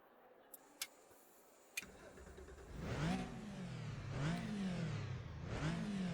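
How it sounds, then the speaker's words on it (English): A few faint clicks come before a Porsche Cayman GT4 engine fires up in the RaceRoom racing sim at Silverstone, then revs up and down three times with a raspy exhaust note, close and loud. "it's got that distinctive Porsche rasp, engine note, exhaust note"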